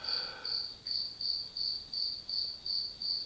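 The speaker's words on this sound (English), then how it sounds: "as you can hear, I got a cricket in here that's causing some serious problems" A cricket indoors at night chirps in a steady rhythm, eight evenly spaced, high, bright trills, close and clear against a quiet room.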